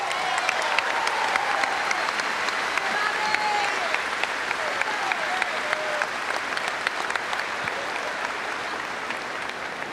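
A crowd at a Hawaii versus Santa Clara women's volleyball night applauds the two assistant coaches, giving steady, sustained clapping that fills the hall from start to finish.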